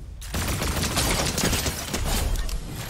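Sustained rapid gunfire from a weapon fired from the hip in a shooter game, a dense continuous volley running loud and close almost throughout.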